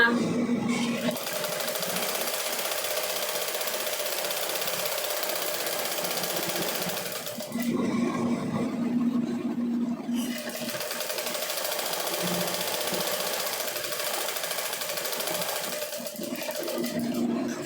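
A sewing machine stitching a folded hem on shorts cut down from old pants runs in a steady fast whir, pausing briefly midway before resuming, heard close and moderately quiet.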